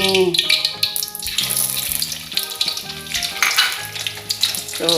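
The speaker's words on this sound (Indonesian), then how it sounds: "Goreng dulu telurnya nih." An egg fries in heated oil with a steady, close sizzle that runs throughout, partly under a voice.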